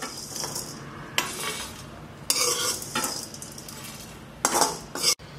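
Coriander seeds and grated coconut dry-roasted in a pan, stirred with a metal spoon in repeated scraping bursts with light sizzle, close and fairly loud.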